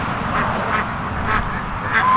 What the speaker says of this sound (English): Okay, there's a goose.